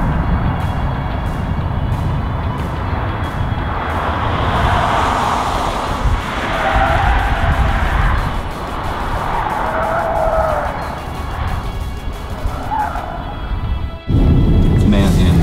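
A Nissan Leaf driven at full throttle around a J-turn: a loud, continuous electric drivetrain and tyre rush that holds steady, then cuts off abruptly near the end.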